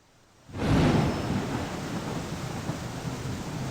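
A thunderstorm in Cafemart Simulator: after a quiet moment a deep thunder roll swells in loud and broad, then settles into a steady wash of rain that continues to the end.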